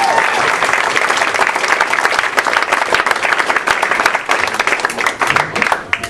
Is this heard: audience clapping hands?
yes